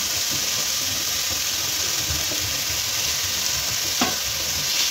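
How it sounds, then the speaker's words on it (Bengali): Chicken slices fry in hot oil in a pan, turned over one by one, giving a steady, close, unbroken sizzle with a faint scrape or two and no talking. "চিকেনের স্লাইসগুলো, সেগুলো একে একে এইভাবে আমি একটু তেলের মধ্যে নেড়ে নেব।"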